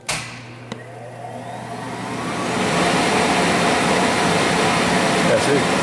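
A Kellenberger 600U universal cylindrical grinder powers up through its Y-delta start. A sharp click comes first, then a whirring hum climbs and settles into a loud, steady mechanical roar.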